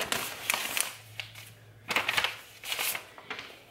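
A return envelope from a Stitch Fix subscription box is opened by hand, giving crisp paper rustles and short tearing bursts in quick clusters, close and fairly quiet.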